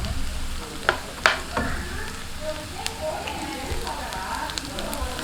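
Onions sizzle and fry in a pan for prawn thokku, a steady crackling hiss with a few sharp spoon-against-pan knocks from stirring near the start, fairly close and moderately loud.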